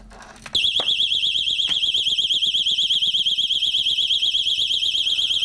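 Child safety alarm set off by touching window blind cords, a loud, piercing warbling electronic tone that starts abruptly after a brief click and keeps wailing steadily, with no talking over it.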